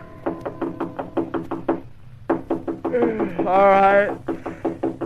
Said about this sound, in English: It was almost 3 a.m. when Andy knocked on my apartment door